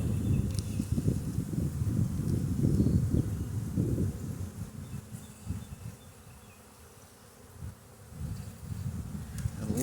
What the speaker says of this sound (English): A lot of young bees emerging on that frame.